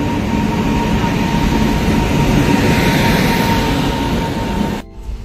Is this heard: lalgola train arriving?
yes